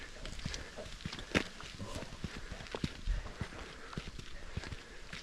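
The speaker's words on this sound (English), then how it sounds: "Nope, we're loading the horses up." Horses loaded into a horse trailer before a backcountry moose hunt in British Columbia, with irregular hoof clops and hollow thuds on the trailer floor, moderately near, and faint voices in the background.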